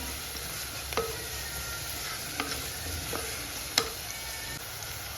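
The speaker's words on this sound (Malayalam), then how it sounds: "നല്ലവണ്ണം വഴന്ന് വരട്ടെ" Ingredients for omelette curry sautéing and sizzling in a pan, a constant hiss of frying with a few sharp spoon scrapes and taps against the pan at irregular intervals.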